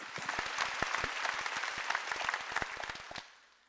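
A church congregation at a Sunday worship service claps in a burst of applause, with crisp, individual claps audible within the crowd sound before it stops abruptly and fades out.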